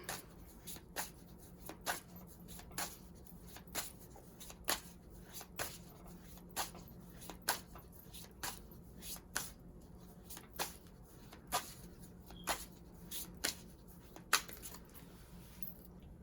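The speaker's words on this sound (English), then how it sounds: "All these cards just flipped out. Putting them back." Tarot cards are gathered and shuffled, producing a steady series of soft, regular riffling snaps and card taps, fairly faint and close, with no talking.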